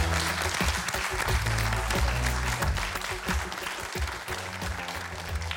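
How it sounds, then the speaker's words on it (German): Studio audience applause on a television quiz show as contestants are introduced, loud continuous clapping with some low rhythmic studio sound beneath and no speech over it. "Applaus"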